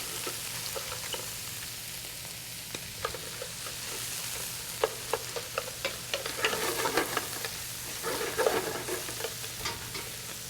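Lobster pieces sear in a pot for lobster bisque, a soft continuous sizzle with crackling pops that grow denser and louder toward the end, heard close and with no voices.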